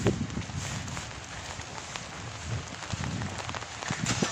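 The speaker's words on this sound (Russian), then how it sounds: "А сейчас дождь льет, как с ведра." Heavy rain pours down in Pitsunda, Abkhazia in February, a dense steady patter of drops striking nearby surfaces with occasional louder splashes, close and continuous without speech.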